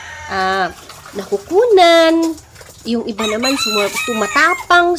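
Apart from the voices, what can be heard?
chicken crowing on a pig farm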